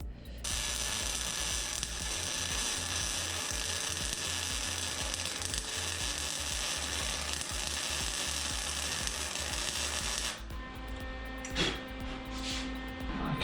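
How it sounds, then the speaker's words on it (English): Steady crackling and buzzing of welding on a Mega Moto 212 minibike frame, close and continuous for about ten seconds, then stopping into quieter handling clatter. "So let's weld that up right there."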